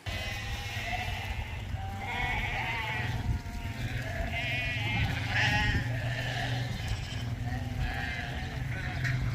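A large flock of sheep and lambs on an Irish farm bleats continuously, with many overlapping calls near and far over a low steady rumble of background noise.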